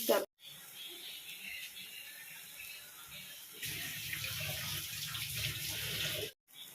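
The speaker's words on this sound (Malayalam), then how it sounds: "ഈ ഒരു കപ്പ് വെള്ളം ഒഴിച്ചാൽ മതി" A cup of water poured into a pot of tuna fish curry, a close, steady splashing gush lasting a few seconds, preceded by quieter kitchen handling sounds.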